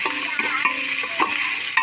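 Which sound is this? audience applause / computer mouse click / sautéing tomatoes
sautéing tomatoes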